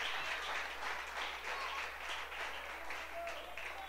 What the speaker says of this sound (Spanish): Está bravo ese aplauso.